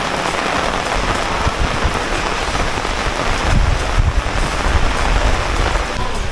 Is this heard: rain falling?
yes